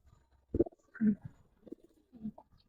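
Jabra pigeons are being held by hand. Soft, low cooing comes close up in a few short bursts with quiet gaps between them.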